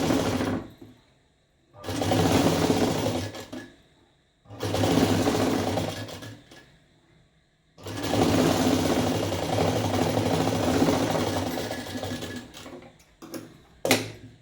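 A sewing machine stitching thread piping onto fabric, three runs of rapid whirring stitches, two short and one long, separated by quiet pauses, close and loud, with a brief final burst.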